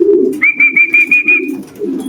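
Racing pigeons coo close by, with a loud, low rolling coo under a steady high whistling tone lasting about a second, and no speech.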